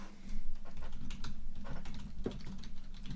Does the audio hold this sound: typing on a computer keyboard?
yes